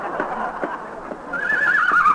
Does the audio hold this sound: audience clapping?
no